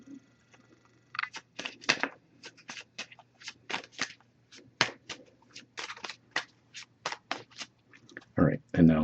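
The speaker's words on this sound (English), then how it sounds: "but we'll give it a few more shuffles" An oracle card deck is shuffled by hand in quick papery riffles and flicks, a rapid irregular series of close crisp bursts ending in a heavier clatter.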